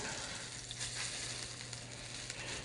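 A steak stood on its edge sears in butter in a skillet, producing a soft, steady sizzle with faint crackles, fairly quiet and free of talk.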